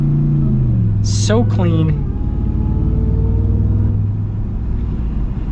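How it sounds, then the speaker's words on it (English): Deep, steady exhaust rumble from a supercharged Ram TRX pickup holds loud and close throughout, with a brief rev in the middle. Someone speaks briefly over it. "You get the rumble, the exhaust out the back, and then you just get that supercharger whine."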